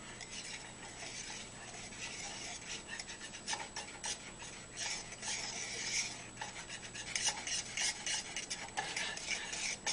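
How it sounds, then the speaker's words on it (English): A spoon stirs cream gravy in a pan off the heat, giving a continuous soft scraping and swishing with irregular strokes, close by, with no talking. "stir it up a little bit"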